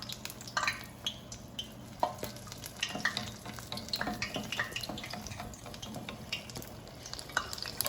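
A chile relleno frying in medium-hot oil, heard as a soft sizzle with scattered light pops, scrapes and stirring clicks, fairly quiet and close, with no talking.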